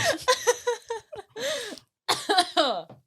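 A rapid run of harsh coughs and throat sounds, close and loud, in bursts with short breaks between them.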